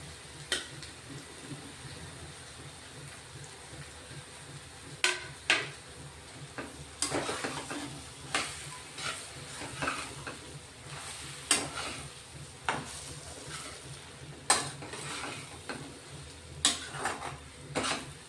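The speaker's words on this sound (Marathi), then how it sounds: "एक 5 मिनिटं चांगलं परतून घ्यायचं, म्हणजे पूर्ण मसाले लागले पाहिजे" Crumbled leftover chapati fried with spices in a pan over low-to-medium heat, a soft sizzle beneath repeated sharp scrapes and clinks of a spoon stirring against the metal at an irregular pace.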